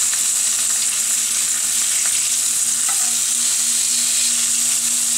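Saganaki cheese frying in a pan as it turns golden and melts, a loud, steady, close sizzle with faint pops, no voices.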